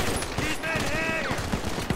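Rapid gunfire bursts from GTA 5 crackle steadily throughout, mixed with game sounds and voices speaking over the shooting.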